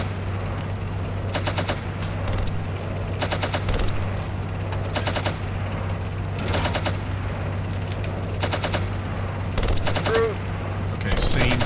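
Repeated bursts of automatic machine-gun fire during an infantry contact in the Steel Beasts tank simulation game, crackling in quick volleys over a steady low engine rumble.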